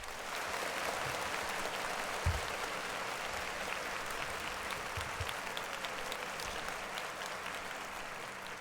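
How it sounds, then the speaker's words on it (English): Sustained audience applause fills the whole stretch at an even level, a dense wash of clapping with a few sharper claps near the start, no voices rising above it. "So clap it up for that video."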